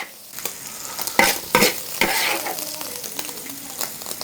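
A seasoned dish stir-fried in a wok with salt, MSG and cooking wine, loud sizzling with repeated scraping strokes of the spatula in an irregular rhythm, close up and without talk.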